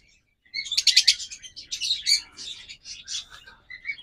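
Caged pet birds for sale at a bird market chirp and tweet in quick, bright bursts, several calls overlapping closely and fairly loud, with no talking over them.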